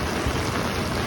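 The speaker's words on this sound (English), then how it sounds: "when it starts raining" Steady broadband hiss of rain falling on a beach in Barrio Barretto, a dense, even wash with no pauses and no voices.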